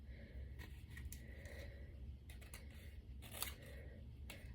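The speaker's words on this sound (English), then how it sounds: "I'm just going to go underneath and cut this beige." Faint, intermittent snips of scissors cutting beige scrapbook paper from underneath a punched fishnet border, a few short close cuts over a low steady background hum.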